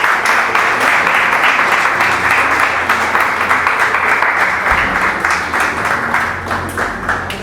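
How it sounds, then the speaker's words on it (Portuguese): A church congregation applauds loudly during a Portuguese-language worship service, a thick, sustained roar of clapping with rhythmic pulses running through it, plus a low hum beneath, lasting several seconds and easing slightly near the end. "Pode aplaudir o Senhor fortemente."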